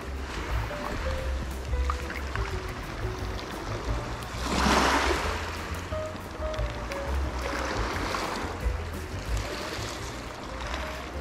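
Water laps and washes steadily against a small boat out on the water while setting up for sport fishing, a continuous close splashing wash that swells once midway, with no talking.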